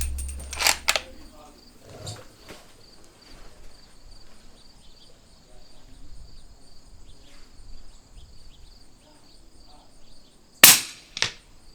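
A rifle firing 300 Blackout subsonic rounds through a Sig 7.62QD suppressor gives two sharp, muffled cracks, one near the start and one near the end, with quiet insect-like ambience between.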